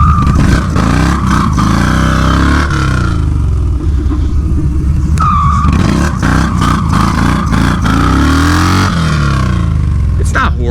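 A motorcycle engine revs loudly while drifting, close and rumbling, with repeated throttle surges and clattering dips, and a rider talks over it in places.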